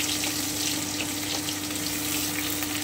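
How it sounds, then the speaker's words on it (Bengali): Crushed garlic sizzles in hot oil in a pan while spinach paneer is being cooked, a loud, close, steady frying hiss with no talking. "এবারে আমি রসুন থেতোটা দিয়ে দিচ্ছি।"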